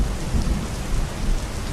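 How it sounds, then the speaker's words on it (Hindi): Heavy rain pours down in a thunderstorm, a dense, constant roar of drops with deep low rumbling underneath, loud and steady throughout, without any voices. "बारिश अब भी गिर रही थी"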